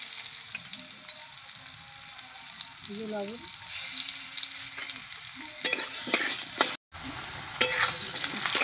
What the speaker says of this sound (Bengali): তেলে আমি আলু ভাজবো।